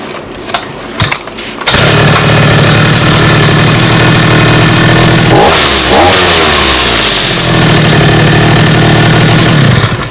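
A Viper string trimmer's small two-stroke engine, just fitted with a replacement cylinder, catches after a brief quiet moment and runs loud and steady close by, with a short rev swell partway through and no talking.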